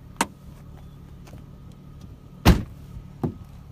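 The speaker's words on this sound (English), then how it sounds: "Like when I push it down, it falls. It's a heavy trunk." The heavy steel trunk lid of a 2017 Dodge Challenger GT swings down and shuts, a sharp thump preceded by a lighter click and followed by a smaller knock, close by over a quiet background.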